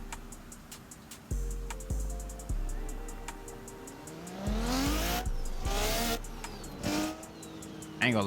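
Loud car engine revving and accelerating on a road, with stepped gear changes and rising pitch, brief tire squeal near the end; someone talks over it.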